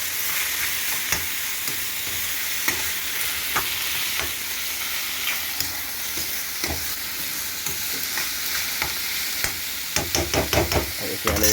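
Food frying in a pan after a light dusting of chili powder, a continuous close sizzle with scattered spatula scrapes and taps that bunch into rapid stirring near the end, no talking.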